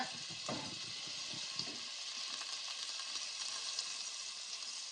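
Steady hissing sizzle of butter frying in a hot cooking pot for Korean chicken curry, with a few soft clinks and stirs early on.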